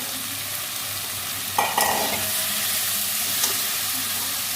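Prawns and water hit a sizzling pan, a steady frying hiss broken by a sharp burst of spluttering as the liquid goes in, then settling back to an even sizzle, close up with no talk.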